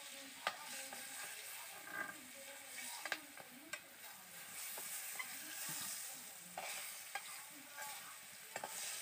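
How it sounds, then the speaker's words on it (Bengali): Pointed gourd (potol) frying in oil while being stirred: a continuous sizzle broken by sharp scrapes and clinks of the spatula against the pan, close and steady, with no talk. "পটলগুলো এইভাবে নাড়াচাড়া করে আমি বেশ কিছুক্ষণ সময় হাতে নিয়ে ভেজে নিচ্ছি।"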